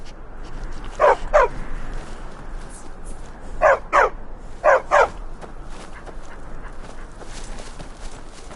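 Dogs barking in a fantasy role-playing video game, three pairs of quick mid-pitched barks spaced a few seconds apart over a low ambient background, with no talking.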